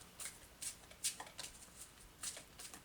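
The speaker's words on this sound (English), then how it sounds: "So I'm going to pull a couple Archangel cards," Archangel oracle cards being shuffled by hand: a series of soft, quick riffling flutters and light snaps repeating irregularly, close and quiet with no talk.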